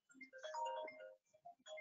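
A mobile phone ringing nearby, a short, faint electronic melody of bright tonal notes in two bursts.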